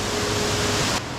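Ramrama waterfall pours with a loud, steady roar of heavy rushing water, a dense unbroken wash of noise that drops slightly in level near the end.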